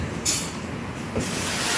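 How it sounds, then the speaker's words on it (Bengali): The automatic door of a Vande Bharat Express train on the Dehradun–Anand Vihar run closes with two short pneumatic hisses, the second longer, over a steady cabin hum. "এখন অটোমেটিক ডোর বন্ধ হবে"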